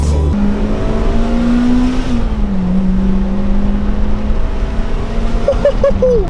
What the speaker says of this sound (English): you can hear the VTEC kicking in a lot more when you've got that on it